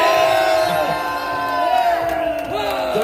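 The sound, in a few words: rally crowd applauding and cheering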